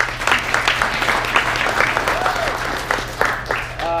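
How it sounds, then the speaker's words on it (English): Audience applause at a real estate talk, a steady wash of many hands clapping with scattered cheers, a voice speaking over it. "Let's give James another round of applause"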